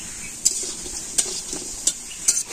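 Pumpkin leaf fritters frying in hot oil over a soft, steady sizzle, with four sharp spoon scrapes against the pan at roughly regular intervals.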